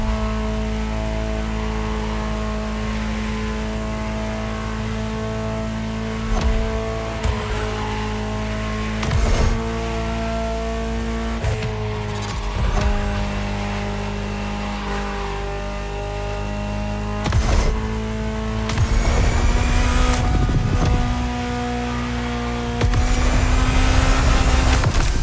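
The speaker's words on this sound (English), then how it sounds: "Just listen to the car you're driving." A Ferrari supercar in The Crew Motorfest racing game, its engine droning steadily and loudly up close, with repeated surges as it revs and shifts gears, plus occasional bursts of tire noise and no voices.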